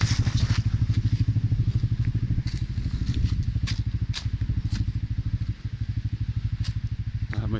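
A CFMoto CForce 450 quad idles and revs with a steady, close, pulsing engine rumble as its wheels spin on a slope, with scattered clatter and crunches over the top.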